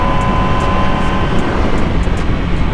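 A 2020 MV Agusta Brutale 1000RR motorcycle engine runs steadily through a ride, a loud continuous drone with a strong tonal hum and a wash of wind noise, with no talk over it.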